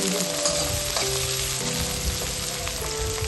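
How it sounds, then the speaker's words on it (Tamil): Two large sliced onions sizzle steadily in hot oil, with a dense, continuous frying hiss and a few stirring knocks, close and loud with no talking. "2 வெங்காயத்தை கட் பண்ணி சேர்த்துக்கிறேன்."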